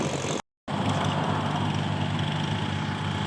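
A Kubota or Yanmar farm tractor ploughing a rice paddy, its engine a loud, steady, close drone that continues unbroken apart from a brief cutout near the start.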